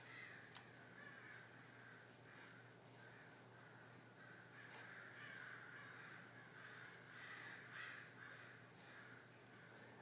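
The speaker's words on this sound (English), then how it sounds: "there's crows. You can hear them." Several crows caw outdoors, a run of harsh calls spread across the stretch, some closer and louder and others faint, over a steady low background hum with no talking.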